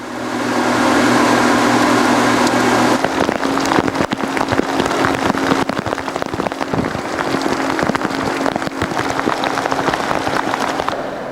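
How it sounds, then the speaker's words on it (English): Heavy storm rain pours onto a river boat on the Murray River, a loud continuous hiss and patter with a low engine hum underneath that drops away partway through. "A further 15 minutes and a storm suddenly bursts upon us."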